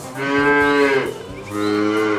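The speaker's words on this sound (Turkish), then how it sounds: "Bu bir inek." A cow moos twice, loud and close, each low drawn-out call separated by a brief pause.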